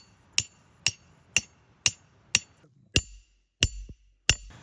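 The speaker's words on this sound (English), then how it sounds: "I'm actually just going to finish hammering this down" A snare anchor is hammered into the ground outdoors, giving eight sharp metallic strikes at a steady, roughly half-second rhythm. The blows are close and distinct, with brief quiet gaps between them.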